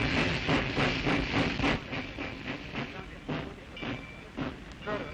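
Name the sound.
train on Djibouti railroad carrying refugees, 1935 newsreel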